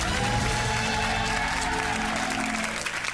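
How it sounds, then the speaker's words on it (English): A quiz show studio audience applauds, filling the clip with a dense, steady wash of clapping that eases slightly toward the end. "Give them both a round of applause."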